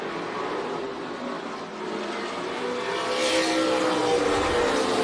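Stock cars race at Tucson Speedway during a NASCAR weekly event, their engines droning loud and steady from a distance, with the roar swelling toward the end as cars pass through the turns.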